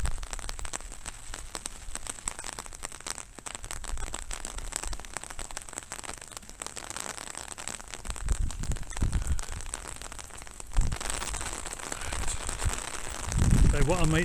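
Rain falling steadily in an Oxford college quad, a dense, continuous hiss of drops on stone and surfaces, with a person talking faintly under the patter and a rustle of nearby movement toward the end.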